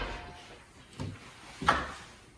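A door opening into a music library storeroom, two soft, dull knocks or thumps about half a second apart over a quiet room, the second slightly louder.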